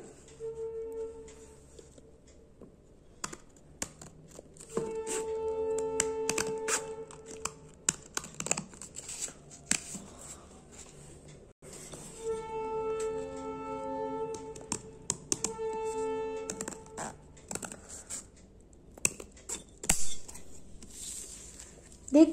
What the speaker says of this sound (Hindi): फिर ये जो लाइन है इसे हमें काटना है